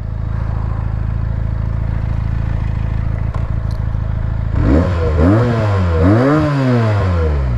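A 2020 Benelli 302 BN motorcycle idles with a low, steady engine hum, then its engine is revved several times. Each rev rises sharply in pitch and falls back, loud and close.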